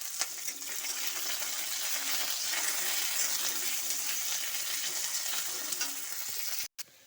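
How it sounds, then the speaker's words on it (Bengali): Dried red chillies, panch phoron and crushed garlic fry in hot oil, a dense continuous sizzling hiss held close and steady before stopping abruptly near the end. "তেল গরম হয়ে গেছে, তেলও দিয়ে দিচ্ছি দুটো শুকনো লঙ্কা আর সামান্য পাঁচফোড়ন আর থেতলিয়ে রাখা রসুন দিয়ে দিচ্ছি"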